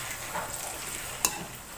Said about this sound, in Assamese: এনেকৈ লৰাই ভাজি থাকিব লাগিব।